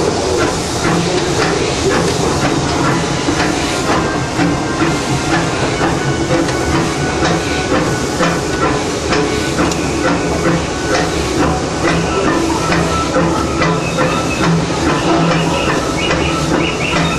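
A Disneyland Railroad steam locomotive, heard from the cab, chuffs in a steady rhythm under continuous loud hissing steam and clanking machinery.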